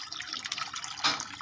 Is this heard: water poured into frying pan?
yes